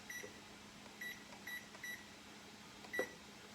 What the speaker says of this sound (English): We're going to set our timer for 10 minutes.